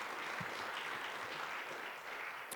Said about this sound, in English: You deserve an applause by yourself.